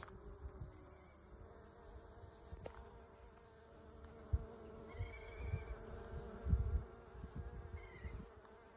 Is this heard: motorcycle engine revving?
no